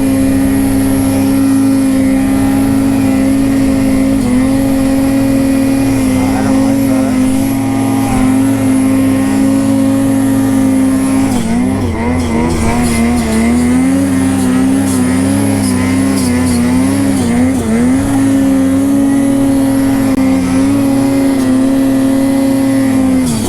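Turbocharged vehicles climbing a mountain trail, a loud continuous engine drone that rises and wavers as they rev, with no talk.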